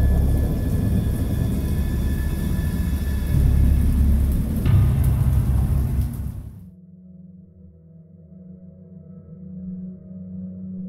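Deep, heavy rumbling of thunder with a rushing wash of rain roars continuously, then cuts to a quieter low drone with a faint hum.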